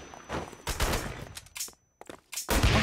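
Bursts of automatic gunfire in the action video game Wanted: Dead, loud close volleys broken by a brief near-silent gap, then firing resumes.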